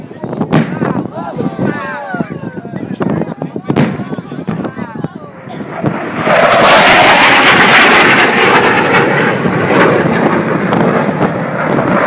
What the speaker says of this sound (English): So from left and from right, launching the Brimstone missiles.